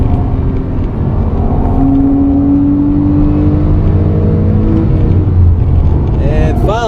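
Porsche 911 with PDK gearbox engine revving and pulling through upshifts on a straightaway, steady loud rumble with rising pitch sweeps near the end, heard from inside the car under continuous talk.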